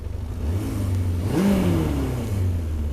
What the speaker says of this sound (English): If I rev it up,